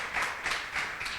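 A church congregation claps together in a few swelling bursts of applause that sound moderately close and fill the room, with no speech over them.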